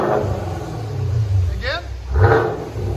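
A 2021 Chevy Camaro RS with the LT1 6.2L V8 and Flowmaster Outlaw dual exhaust rumbles low and deep, swelling in a couple of revs, with short bits of voice sounding over the engine.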